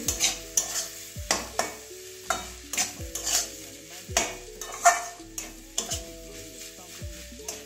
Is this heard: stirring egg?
yes